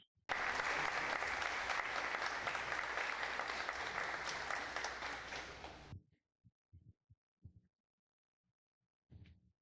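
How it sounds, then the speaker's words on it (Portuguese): Audience applause fills a Brazilian autism awareness talk, a loud, dense burst of clapping that lasts about six seconds and then cuts off, leaving a few faint knocks and movement sounds. "Palmas para ela."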